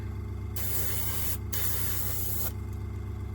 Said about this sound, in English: spray that with a green. The airbrush is playing up a little and needs a full strip down and clean.